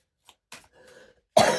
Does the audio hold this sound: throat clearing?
yes